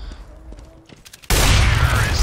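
Gunfire in the video game Counter-Strike: Global Offensive breaks out as a sudden loud, dense burst after a quieter stretch of game noise, continuing as a sustained roar to the end.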